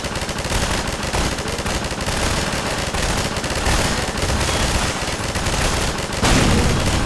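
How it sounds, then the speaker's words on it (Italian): Heavy gunfire and explosions rage in Half-Life 2, a loud, dense barrage of rapid shots and booms running without pause, with a fresh blast near the end. "Ok, ho sentito un'esplosione, quindi vado."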